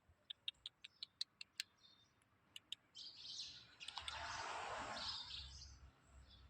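Sharp, high bird chirps repeat in quick succession from a bird inside a net, followed by a rising rustle or flutter of noise; fairly quiet overall, with no talking, in Qatar.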